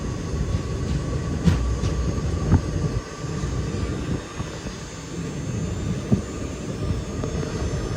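The Ernad Express pulls out of Koyilandy railway station, a steady broad rumble of wheels and engine with a few sharp clanks and knocks scattered through, continuous and fairly loud, no voices.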